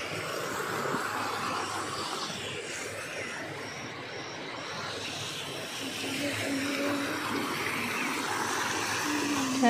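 Rainwater running across flooded village farm fields during the monsoon, a steady broad wash of flowing water continuing without pause, moderately loud and close throughout.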